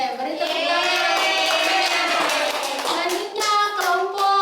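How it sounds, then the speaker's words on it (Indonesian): Steady applause fills a primary school classroom, a continuous patter of many hands clapping at close range, with children's voices faintly mixed in. "Oke, beri tepuk tangan."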